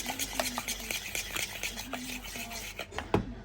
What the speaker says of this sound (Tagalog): Ito ay imimix natin. Mix yan.